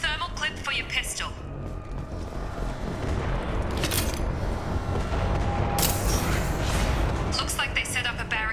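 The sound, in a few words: canisters exploding in the video game Mass Effect 2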